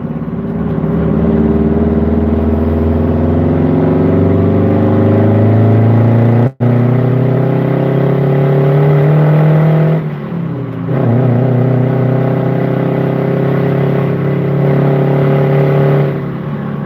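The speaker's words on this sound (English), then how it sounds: "This is the best truck to go deaf to, listening to." A loud truck engine without an intercooler revs hard and close, its pitch rising and falling in long sustained pulls with a brief cut around the middle. It is heard alone, with no talking.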